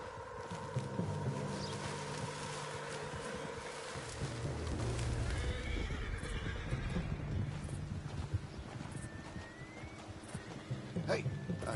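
In Red Dead Redemption 2, a horse whinnies and snorts while hooves clip-clop, with someone speaking briefly over the scene and a steady low background hum.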